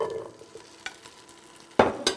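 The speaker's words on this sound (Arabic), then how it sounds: "هون شوية سمن بلدي وزيت نباتي أو زيت نباتي لحاله، بدي أشوح فيهم اللحمات" Meat being stirred and sautéed in ghee and vegetable oil in a pan, with a soft sizzle broken by a few sharp scrapes and clacks of a utensil, the loudest near the end, with no talking.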